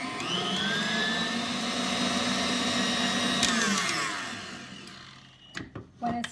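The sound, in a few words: electric mixer mixing cupcake filling with vanilla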